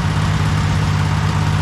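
A small engine with a misadjusted governor or throttle cable idles steadily without revving up, a loud, continuous low drone that holds one even pitch throughout with no talking.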